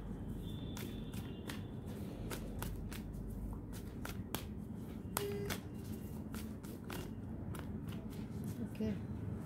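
A deck of playing cards is shuffled for a pick-a-card reading, giving a rapid series of crisp riffling snaps and flutters at close range over a steady low room hum, with no talking.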